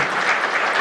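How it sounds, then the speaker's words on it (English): A crowd applauds at a poetry and barbecue gathering, a dense, even wash of clapping with no talking over it. "A round of applause."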